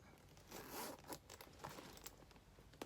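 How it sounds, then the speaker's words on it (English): The zipper on a Louis Vuitton Odeon Tote PM handbag rasps open in a few quick, close pulls with small clicks from the hardware, soft and brief. "It has a nice zip"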